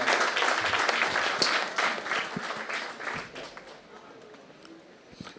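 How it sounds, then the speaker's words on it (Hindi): Applause for a poet at a college event at IIBM Patna: a dense crowd clapping loudly, then gradually thinning and fading over several seconds, with faint voices underneath. "ऐसे कवि के लिए जोरदार तालियां बजाइए।"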